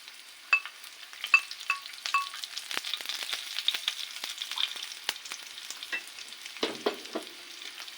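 Onions frying in a pan for chicken pasta, a soft sizzle under repeated sharp scrapes and taps of a spoon stirring against the metal, close and fairly quiet, with no one speaking.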